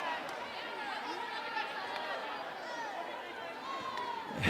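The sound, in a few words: basketball arena crowd reacting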